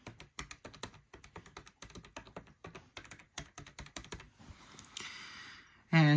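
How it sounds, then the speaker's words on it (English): Keys pressed one after another on a 1985 ITT/Cortelco 2500DM touch-tone desk telephone keypad give quiet, smooth, slightly clunky taps in a quick, even rhythm, ending with a louder burst. "The keypad is quiet, but it does have a nice smooth sound to it."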